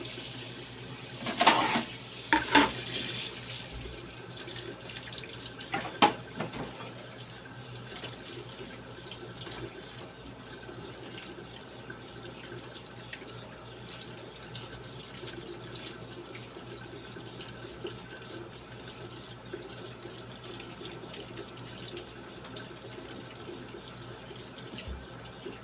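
Tap water runs while galunggong fish are cleaned at a sink, a long, steady low wash of flowing water. A few sharp knocks and splashes stand out near the start, and no one speaks.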